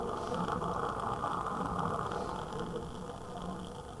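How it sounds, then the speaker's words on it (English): A camping gas canister running low in an old backcountry hut on a cold winter night, giving a steady hissing, faintly sputtering roar that holds close and even throughout with no talk. "And that is the sound of a gas canister running out of gas."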